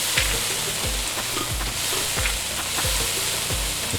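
Onions sizzling as they fry in a cooking video game, a loud steady hiss filling the clip with low soft stirring thumps recurring about every half second.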